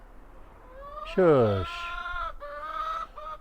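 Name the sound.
noisy chickens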